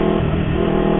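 A car engine revs up loud and close, a steady, continuous drone on a busy road.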